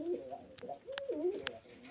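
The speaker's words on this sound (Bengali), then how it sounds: "পায়রা অনেক আছে, দেখাচ্ছি।" Pigeons in a loft coo in soft, low, rolling calls close by, with a few faint clicks and rustles between them.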